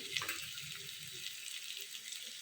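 A small amount of water poured into a simmering duck egg curry, a soft trickling splash that runs quietly and continuously, faint and close.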